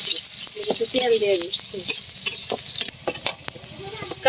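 Spices fry in hot oil in a wok for a radish and small fish curry with onion, a loud close sizzle broken by repeated scraping strokes of a spatula stirring the mix.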